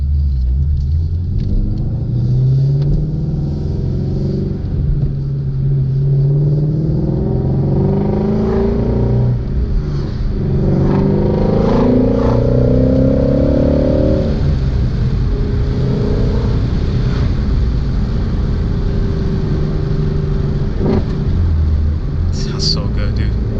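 Ford Shelby GT350 exhaust during acceleration pulls, heard from inside the car as a loud, continuous engine rumble with rising revving tones across several pulls, and occasional voices under it.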